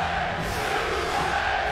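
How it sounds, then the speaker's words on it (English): Arena crowd at a wrestling event cheering wildly, a dense, loud, unbroken roar of many voices with no single speaker standing out. "This crowd is losing their minds!"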